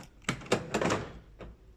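The doors of a Land Rover Discovery Td5 are opened, giving a few close mechanical clunks and latch clicks in quick succession, then a fainter knock.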